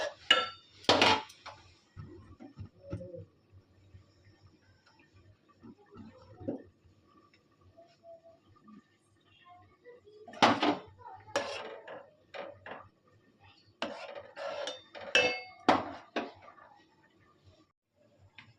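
Semai vermicelli stirred in a pan with a utensil, giving intermittent scraping and clinking bursts that come and go in clusters, fairly close, with quiet gaps between them and no speech.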